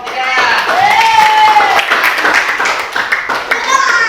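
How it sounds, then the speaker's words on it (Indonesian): Clapping and cheering erupt from a group for team 3 in a classroom-style gathering, close and lively, with excited voices shouting over the applause. "Beri tepuk tangan untuk kelompok 3."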